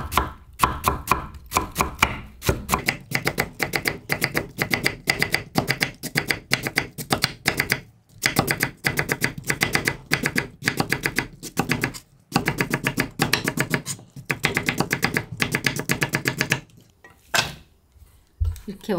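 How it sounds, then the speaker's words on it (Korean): Rapid, rhythmic knife chopping on a cutting board while preparing radish for a Korean seasoned vegetable side dish, dense bursts of sharp taps with brief pauses, continuing for most of the time and fairly close. "칼 밀지 말고 탁탁탁탁 쳐요"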